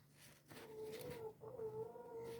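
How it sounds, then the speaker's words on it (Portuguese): A chicken clucks and calls indoors, a few short nasal, wavering cries close by in a quiet room, with no voices over it. "Vai pra fora, galinha!"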